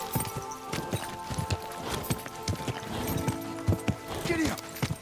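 Horse hooves gallop in the video game Kingdom Come: Deliverance II, a loud rhythmic clip-clop of repeated strikes close by, with a brief whinny near the end and a voice calling out over the running.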